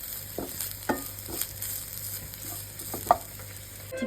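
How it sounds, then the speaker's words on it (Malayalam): Chicken and grated coconut fry in a pan for a Kerala-style roasted-coconut curry, with a steady close sizzle and a few sharp scraping strokes of a spatula stirring through. "ഞാൻ ചിക്കൻ ഒന്ന് വറന്ന പോലെ വരുന്ന സമയത്ത് തേങ്ങയും കൂടെ വറുത്തെടുക്കുക കേട്ടോ"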